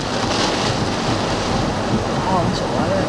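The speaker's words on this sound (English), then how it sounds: "Well, the wind's blowing this way, so it's coming straight in." Strong storm wind buffets the microphone during a Missouri storm chase, a dense steady roar with gusty swells throughout and faint voices barely audible beneath it.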